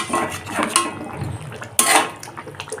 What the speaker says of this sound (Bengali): এখন ভেজে রাখা মাছগুলোকে এর মধ্যে দিয়ে দেব